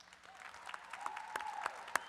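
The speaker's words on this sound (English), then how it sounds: "Please show your appreciation by giving those who have helped you on this journey a round of" Scattered applause rises at a graduate commencement ceremony at the University of Northern Colorado, sparse individual claps popping out over a faint reverberant hall background, fairly quiet and building slightly.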